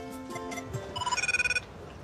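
A mobile phone rings with a bright electronic ringtone, a short burst of rapid repeated tones rising over a busy background, near and fairly clear.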